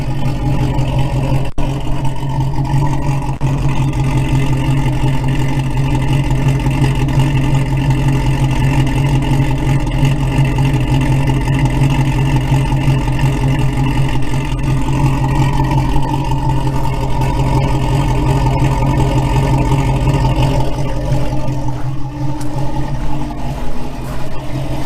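A vehicle engine, started after sitting for about fifteen years, runs at a steady idle, a loud continuous low hum with an even, unchanging drone throughout and no talking over it.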